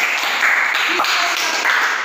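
Classroom of students applauding a student group after its presentation, a steady broadband patter of many hands clapping at once, close and fairly loud, continuing without pause for a couple of seconds.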